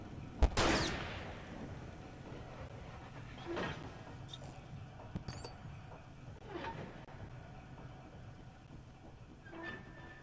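A gunshot in the horror game Alan Wake Remastered cracks loudly once near the start, followed by a few fainter, scattered impacts against a low, quiet background with no talking.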